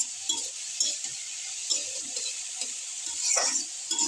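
Desi red potatoes frying in a pressure cooker, with a steady hiss of sizzling oil and repeated scrapes and clinks of a spatula stirring against the metal pot, close and moderately loud with no talking.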